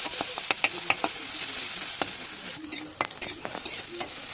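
Taro frying in oil in a kadai, sizzling steadily while a utensil scrapes and stirs, with frequent sharp clinks and scrapes throughout.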